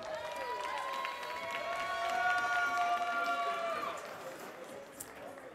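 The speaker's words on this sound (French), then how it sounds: "Je vous demande s'il vous plaît beaucoup d'applaudissements." Audience at a French barista championship final gives a steady, full round of applause for a finalist, swelling in the middle and tapering off, with voices and whoops mixed in.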